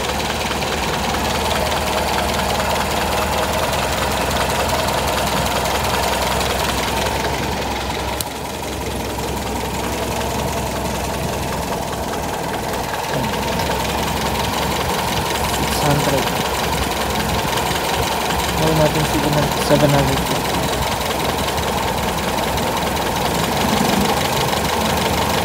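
A Toyota 4K engine idles steadily during an ignition timing tune-up, a continuous low rumble with a light ticking knock that runs throughout, briefly dipping then holding even while a voice talks over it.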